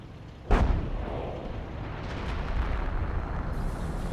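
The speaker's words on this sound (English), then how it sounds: "Hummel barrage right there" A Hummel artillery shell in Company of Heroes lands with one sharp, loud boom, followed by a long rumbling decay and low battlefield noise.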